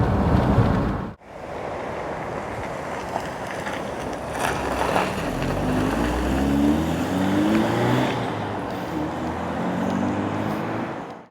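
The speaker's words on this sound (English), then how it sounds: "That was the Austin Montego, driving another one in 2024" A brown Austin Montego estate car drives along, its engine and tyre rumble steady and fairly close, with rising and falling engine tones as it accelerates and shifts, and wind noise throughout.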